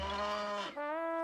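A cow moos once nearby, a long, loud, harmonic bellow that dips in pitch partway through and then holds steady, heard alone with no talking.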